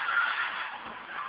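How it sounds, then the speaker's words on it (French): Tires on a Honda Civic Type R squeal in a sustained, fairly loud screech that holds steady for just over a second, wavering slightly without any speech. "on entend le grimpage des pneus"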